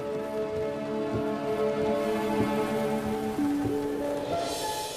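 Steady rain falls on surfaces in a constant dense patter, with tonal music sustained underneath throughout and no speech.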